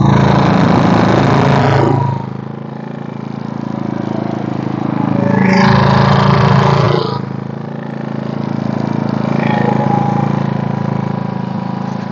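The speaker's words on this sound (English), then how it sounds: "put the mic close to the generator so that you at least believe a generator is on" A Senci inverter generator runs right beside the microphone, a loud, steady, buzzing engine drone that swells and eases slightly in load over several seconds, with no speech.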